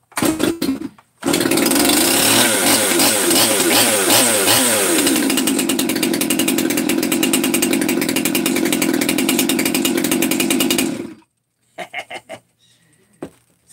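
A rebuilt 200T chainsaw starts and revs up and down, running loud and close for about ten seconds before cutting out, with short sputters and quieter sounds trailing afterward.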